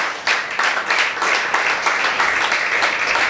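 A church congregation at a Sunday service claps in praise to God: a dense, steady burst of many hands clapping together, fairly close, lasting a few seconds with no talk over it.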